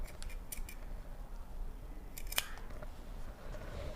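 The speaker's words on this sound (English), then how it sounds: "to cut off this leftover bit, and I will cut as close as I can to the stitching" Scissors snip away leftover fabric right beside the stitching of a sewn turtleneck: a few close, crisp cutting clicks, one sharper snip standing out, over a quiet room with no talking.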